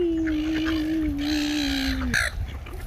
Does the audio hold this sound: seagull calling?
yes